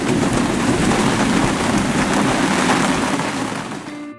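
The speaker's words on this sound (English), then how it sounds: "A lot of wind here." Strong wind at a marina during a squall roars as dense, broadband rushing noise like a downpour, loud and continuous for about four seconds before cutting off abruptly, with no voices.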